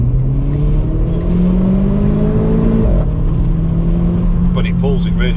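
A Renaultsport Clio 220 Trophy engine drones steadily as the car accelerates, its pitch climbing, dipping at a gear change, then rising again, loud and close with road and cabin noise underneath.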